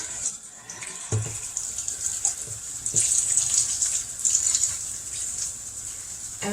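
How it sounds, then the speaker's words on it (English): Hot water runs steadily from a kitchen sink tap, a soft continuous hiss of flowing water with a few faint clunks, moderately close. "I have hot water running beside it so I can have my hands not be frozen"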